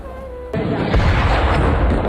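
Israeli missile airstrike in southern Lebanon: after a quiet start, a sudden loud blast erupts and rolls on as a dense, rumbling roar of explosion noise filling the rest of the moment.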